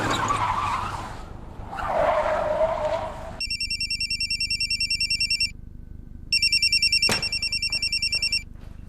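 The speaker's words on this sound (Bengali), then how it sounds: "ফোন তোলো, হতে পারে কিডন্যাপারদের কল।" A telephone rings in a tense crime drama scene. Loud electronic trills come in two bursts, with a short gap between them, after a stretch of engine roar and skidding. One sharp thud breaks into the second ring.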